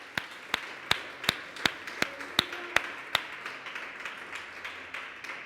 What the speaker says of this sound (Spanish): Dale el aplauso al Señor, aleluya.